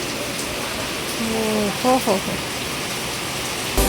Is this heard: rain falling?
yes